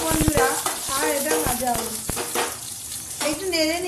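Panch phoron and whole cumin seeds being stirred in hot oil, with a steady close sizzle broken by sharp scraping knocks of a spoon against the pan, and some clattering in the background.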